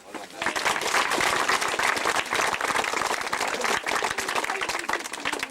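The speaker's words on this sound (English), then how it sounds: "They deserve a round of applause for the job well done." A crowd at an under-16 Gaelic football final in Leitrim bursts into applause for the referee and linesman, many hands clapping in a dense, sustained patter with crowd murmur mixed in.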